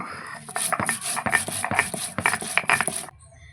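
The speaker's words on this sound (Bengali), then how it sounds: "জিরেটা আমি কিছুক্ষণ বেটে নিয়েছি" Whole cumin seeds being ground on a grinding stone, with a rapid series of scraping, gritty strokes in quick rhythm, close and fairly loud, then stopping.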